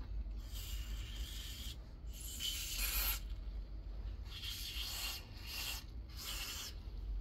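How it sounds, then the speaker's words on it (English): Bursts of silicone spray hiss from an aerosol can onto a Toyota gear actuator unit, several close, loud sprays of a second or so separated by brief pauses. "The silicone spray"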